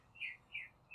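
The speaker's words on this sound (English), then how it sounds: "You hear how loud he's singing?" A small songbird chirps three bright, clear notes in quick succession, moderately near and alone against faint background hiss.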